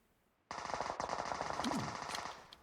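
Rapid automatic P90 fire from the video game PUBG Mobile, a loud continuous burst that starts abruptly and rattles on for about two seconds before tapering off.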